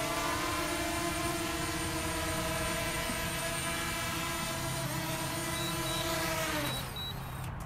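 A DJI drone landing, its propellers producing a loud, steady high-pitched whine with strong tonal hum that holds near and constant, then shifts and tapers as the motors spool down at the end.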